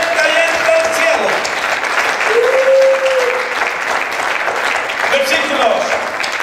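Church congregation applauding in praise of the Lord, a steady, loud wash of clapping sustained throughout, with a few raised voices and shouts rising above it.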